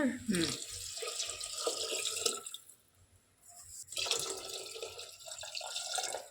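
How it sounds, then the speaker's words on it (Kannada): Water runs in a steady splashing stream into a cooking pot, pausing briefly midway before resuming, with faint voices in the background. "ನೀರು ಹಾಕ್ತೀನಿ ನೀರು ಹಾಕೊಂತ"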